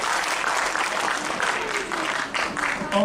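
Audience applause at a leadership lecture, a dense, steady wash of many hands clapping throughout, fairly loud and close, with no talk over it.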